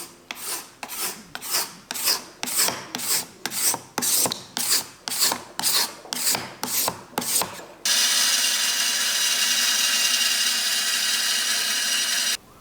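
Rhythmic hand scraping across the surface of an old blackwood chair, about fifteen strong rasping strokes in steady succession, then a continuous loud abrasive scrape or sanding sound for the last few seconds.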